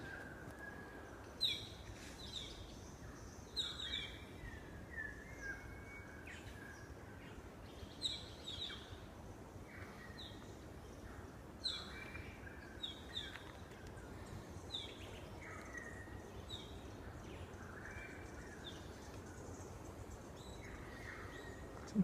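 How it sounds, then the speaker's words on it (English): Faint birdsong drifts over a quiet suburban spot near a small bridge, scattered chirps and short calls recurring every few seconds against a soft outdoor hush. "see if you can hear those birds and stuff"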